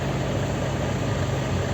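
A 1992 Volkswagen Passat B3 with a 1.8 engine and about 357,000 km on it idles at a roadside car market, a steady close low hum and rumble.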